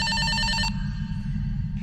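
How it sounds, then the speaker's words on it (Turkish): A mobile phone ringtone trills in quick, regular electronic pulses for under a second, then cuts off, leaving a low background hum. "Benim telefon çalıyor"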